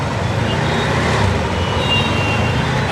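Road traffic crawls in a jam near the Sai Baba temple in Kalyan, a loud, continuous rumble of engines with a faint tonal whine drifting over it.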